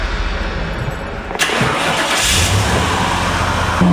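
A car engine abruptly kicks up and revs, labouring loudly and steadily after a quieter opening, as the car sits stuck in a pothole.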